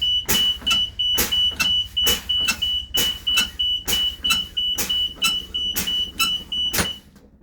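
A bus's low air pressure warning buzzer pulses in a steady rhythm, roughly a dozen loud beeps over an idling diesel engine, before cutting off at the end.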